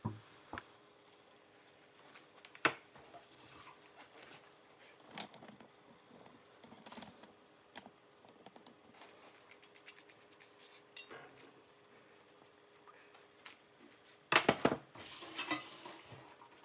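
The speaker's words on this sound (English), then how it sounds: "I'm still taking the same masher and I am going to mash up the garlic" Garlic is pounded in a pot with a masher while cooking fish yassa, bringing faint scattered taps and scrapes before a louder clatter of metal against the pot near the end.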